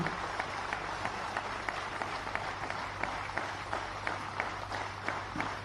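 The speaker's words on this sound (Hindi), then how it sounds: "जोरदार तालियों से अभिनंदित करें हमारे इस आयुष्मान CAPF की वीर को" A standing audience at a CAPF Ayushman ceremony in Guwahati applauds steadily, with many hands clapping together and individual claps audible in a regular rhythm over a low hum, lasting several seconds.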